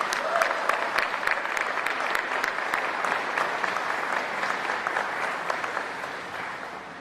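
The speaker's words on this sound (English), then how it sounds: "And that deserves a round of applause." Sustained applause from a large crowd at a speech by Governor Abbott in El Paso, dense and steady with sharp individual claps standing out, fading slightly toward the end.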